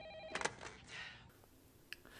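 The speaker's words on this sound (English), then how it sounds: "can you answer the phone, please? I can't. It's in the fish tank. No, the one on the desk that's ringing." A desk telephone rings in a film scene, a couple of quick electronic trilling bursts near the start, fairly faint, with a brief chirp later and no one talking.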